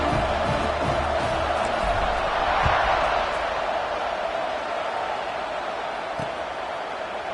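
Stadium crowd roar in the NCAA 26 college football video game at kickoff, a dense, sustained wash of cheering that holds steady and loud throughout, with scattered thuds and whoops inside it.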